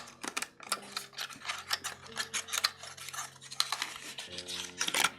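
A twist diamond painting pin is unscrewed by hand, giving close, dense scraping and clicking of plastic threads with faint tonal squeaks, rapid and continuous over a few seconds with no speech.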